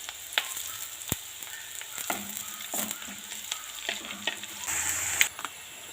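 Green chillies, garlic and curry leaves fry in hot oil for a Kerala puli inji, giving a steady close sizzle broken by sharp spatters and clicks of a spoon against the pan, with no voices.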